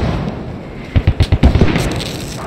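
Mortar shells exploding in the military shooter Squad, a rapid cluster of six or seven heavy booming blasts in quick succession, fairly close, over a low battlefield rumble.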